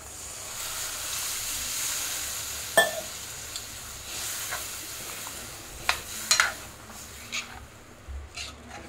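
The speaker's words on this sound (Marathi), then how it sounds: "तर आता आपल्याला 1 ग्लास कोमट पाणी टाकायचं आहे।" Masala sautéed in oil for Maharashtrian shev bhaji sizzles softly as a glass of lukewarm water goes in, with a steady hiss and a few sharp clinks and stirring scrapes scattered throughout.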